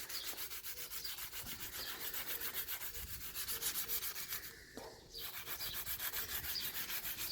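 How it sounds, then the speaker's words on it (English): A rough-grit sanding block is rubbed back and forth over a Toyota Yaris Mk1 car part, making a rhythmic, close, raspy scraping of steady strokes with a brief pause near the middle and no speech. "she is using the rougher grit sanding block to sand back the vast majority of it"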